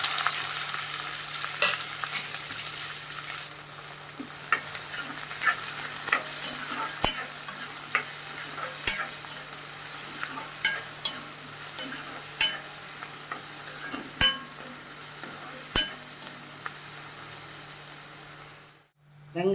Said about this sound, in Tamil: எண்ணெய் காஞ்சதும் வெங்காயத்தை போட்டுக்கோங்க